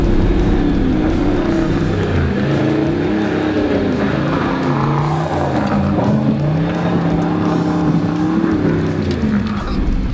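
A car accelerates hard along a shaly forest track in a state forest, its engine roaring loud and close with rising and falling revs over a constant rumble of loose stones under the tyres.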